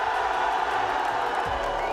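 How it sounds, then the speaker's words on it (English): Large esports arena audience at an Overwatch 2 playoff, split between rival fan groups, producing a sustained loud wash of cheering, whooping and booing with scattered claps, unbroken for the whole stretch. "It's a lot of booing, a lot of screaming on the other side"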